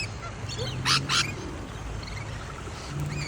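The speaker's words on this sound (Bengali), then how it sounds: "অস্ট্রেলিয়াতে বনের পাখিগুলো আসছে" Two short bursts of wild bird calls in Australia stand out briefly over a steady low hum and outdoor background noise.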